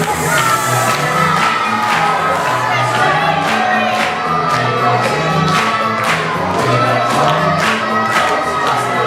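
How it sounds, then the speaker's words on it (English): Children in a school pantomime audience shouting loudly together, a sustained dense crowd roar with cheering that stays strong throughout. "What's all the shouting about?"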